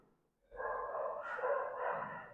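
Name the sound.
dogs barking outside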